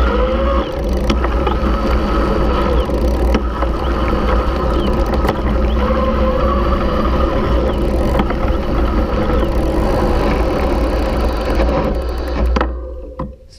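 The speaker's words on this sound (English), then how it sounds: "I thought it'd be a good chance to just pedal at higher cadence and give you an idea of how the motor sounds" Bafang MAX Drive mid-drive electric bike motor running while pedaled at high cadence through the gears, a loud, steady mechanical whir and hum with faint ticking, fading near the end.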